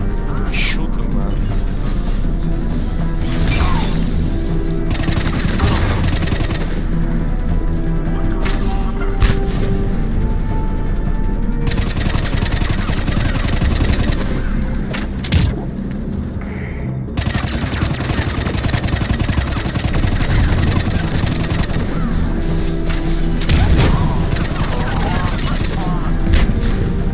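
Mass Effect 3 gunfire on hardcore difficulty on PC, played loud and continuous with repeated bursts of shots and combat noise throughout, while players talk over it.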